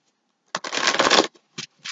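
A deck of cards is shuffled for a card reading: one close, crisp riffle burst of about a second, followed by a few short soft card taps and flicks in an otherwise quiet room.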